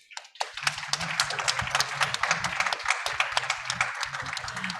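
A modest audience at the COP26 Commonwealth Pavilion claps for a panel discussion, scattered individual claps building into steady, fairly light applause with a slight room echo and no voices over it.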